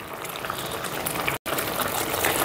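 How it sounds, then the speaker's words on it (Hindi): Sugar syrup with vermicelli boils hard on a full flame, giving a dense, continuous bubbling hiss that cuts out for a split second and then resumes. "ये जो हमने शीरा बनाया था इसको फुल फ्लेम करके थोड़ा सा सुखा लेते हैं।"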